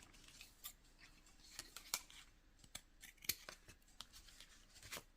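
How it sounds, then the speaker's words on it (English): Scissors snip through a scrap of tissue box cardboard while a belly band is crafted: a quiet, close series of sharp, irregular cuts with short pauses between them, and no talking. "so let me cut that off."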